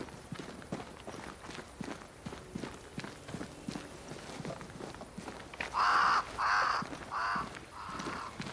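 Several crows caw in a burst of loud, harsh calls over steady footsteps crunching along in the Banishers: Ghosts of New Eden game world, with ambient outdoor sound throughout.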